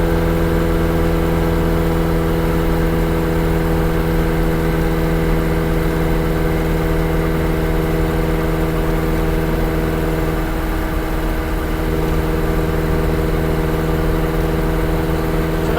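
The engine of a classic car runs at a steady idle, a continuous close, even hum with a low drone and no talk.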